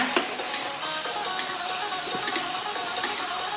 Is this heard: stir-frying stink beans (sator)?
yes